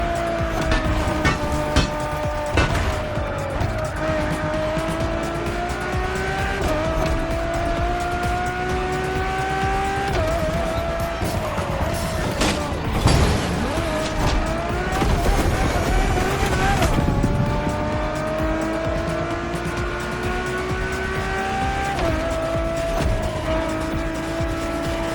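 A road-legal Ferrari Formula One car in a racing game, its engine revving up and down through gear changes with tire squeal, loud and continuous under a voice talking throughout.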